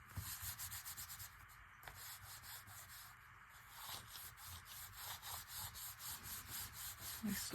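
A collage page being rubbed down by hand, a soft steady rhythmic rubbing and scrubbing, close and fairly quiet, with no talking.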